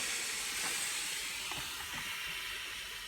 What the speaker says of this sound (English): you can hear the steam coming out there.